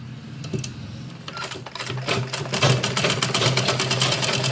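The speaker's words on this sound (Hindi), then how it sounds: "अभी यहाँ से सिलाई कर लेंगे।" A sewing machine stitches a vegetable organiser bag, its needle chattering in a fast, steady rhythm that starts lighter and runs louder and denser after the first couple of seconds, heard close with no talking.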